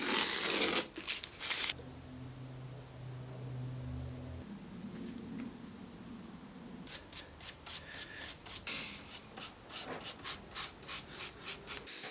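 Filled holes in pine are hand-sanded ahead of painting, with short, close scratchy strokes in bursts, ending in a quick rhythmic back-and-forth series of rasping passes; a low hum runs briefly in between.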